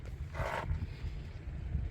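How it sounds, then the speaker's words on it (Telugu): A 2006 Hyundai Getz engine with 78,000 km idles smoothly, holding a steady low rumble close by, with a brief brighter rush of noise early on. "ఇంజన్ సౌండ్ వినొచ్చు మీరు"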